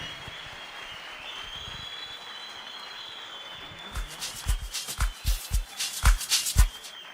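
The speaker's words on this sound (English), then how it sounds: "I think he deserves a much bigger round of applause than that" An audience at an RSA sport, arts and culture event breaks into applause after a quiet stretch, the clapping starting up midway and building into uneven, lively bursts.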